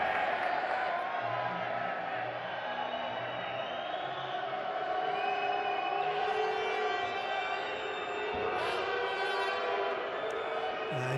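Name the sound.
basketball arena crowd reacting to a foul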